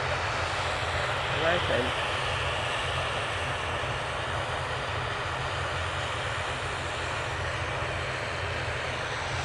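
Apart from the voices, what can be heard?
TUI aircraft arriving at Manchester Airport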